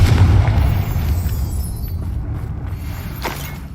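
A Confringo blasting spell explodes in a Harry Potter video game, a loud booming burst up front that then rolls on as a long, decaying rumble with a faint crackle trailing behind it.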